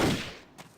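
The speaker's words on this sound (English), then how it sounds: "Somebody's shooting at me." Brief gunfire from the video game Indiana Jones and the Infernal Machine: a fading burst of shots followed by one faint pop, with no voice over it.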